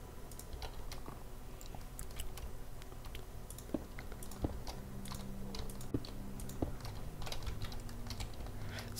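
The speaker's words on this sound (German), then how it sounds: "man hört übrigens auch die Tastatur und die Maus immer noch" Computer keyboard typing and mouse clicks during a Minecraft game session: soft, irregular key taps and sharp clicks scattered across a quiet room tone, faint and close to the microphone.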